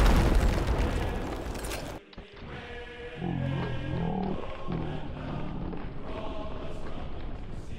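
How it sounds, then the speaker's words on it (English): In the Sea of Thieves video game, powder barrels explode in a chain reaction. A dense, roaring burst of blasts comes first, then rumbling, creaking aftermath noise and lower booms continue. "So they chain reacted and each one was the same explosion as it went along."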